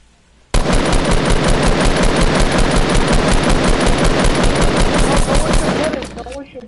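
Automatic machine-gun fire in a video game rattles out in one loud, unbroken burst of rapid shots lasting over five seconds before it abruptly stops.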